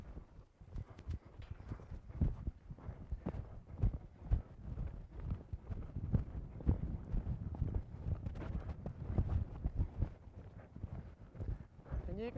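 A horse's hooves plod steadily over ground while working cattle with a rope, irregular muffled thuds and clip-clops close to the microphone, with wind buffeting and someone speaking over them.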